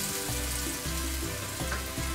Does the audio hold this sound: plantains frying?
yes